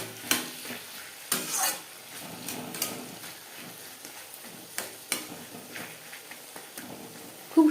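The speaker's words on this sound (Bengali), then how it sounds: "তেলের সাথে বেগুন বেশ ভালো করে মিক্স করে দেবো" Small brinjal pieces stirred in frying oil for a fish oil curry, giving a low sizzle with repeated spatula scrapes and clinks against the pan, close up and without speech.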